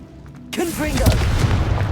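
Confringo fire spell explosion in Hogwarts Legacy: a sudden loud blast that erupts and then rumbles on, sustained and close, with a voice heard briefly at the start.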